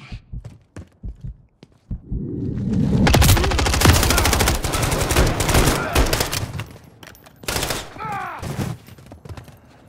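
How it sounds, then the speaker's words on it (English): Call of Duty gunfire rattles in loud, dense bursts through the middle of the clip, with scattered shots, thuds and footsteps before and after. "why are you guys shooting him?"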